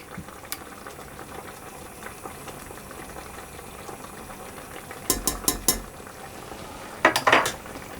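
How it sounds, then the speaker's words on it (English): Corn flour being stirred into strawberry pie filling in a pan: a low simmering bubble under quick bursts of a utensil clattering against the pan. "I'm actually going to put it into a strainer and sprinkle it over, and then I'll stir it in"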